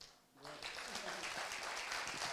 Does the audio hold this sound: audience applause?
yes